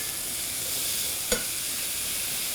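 About twenty sliced baby bella mushrooms sizzle in a Lodge Blacklock cast iron skillet, a steady close hiss of frying with one brief clack of a utensil partway through and no talking.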